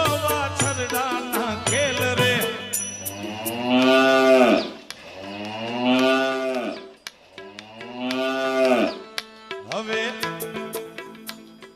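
Calves mooing loudly and repeatedly, long drawn-out bellows close by with short pauses between calls and no talk over them.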